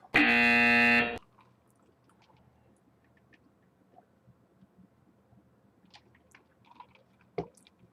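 An end-of-quarter buzzer sounds in a basketball arena, a loud, harsh sustained blare lasting about a second, then quiet crowd murmur and scattered faint knocks.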